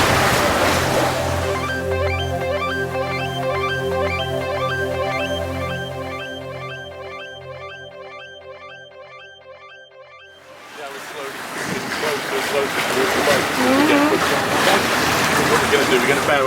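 A Leopard 40 catamaran under sail pushes through ocean waves, broadband water and wind rush with a steady tonal hum that fades midway and then returns as a loud wash of surf.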